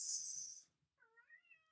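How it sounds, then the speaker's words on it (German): A cat gives a short rising meow, fairly near but soft, following a brief burst of hissing noise in an otherwise quiet room. "Miaut die Katze."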